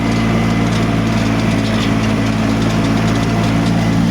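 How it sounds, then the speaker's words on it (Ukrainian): A small 33-horsepower tractor engine drones steadily and loudly up close, a constant low chugging hum with rattling from the seven-tine cultivator it pulls. "трактор 33 сили, культиватор 7 лап"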